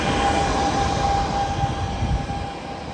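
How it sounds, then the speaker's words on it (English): DC fast charging station charging a Hummer EV outdoors, a steady loud whirring hum with a faint constant whine, no talk during it. "So there's the Hummer EV, and it's charging at a DC fast charging station"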